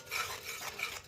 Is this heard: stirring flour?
yes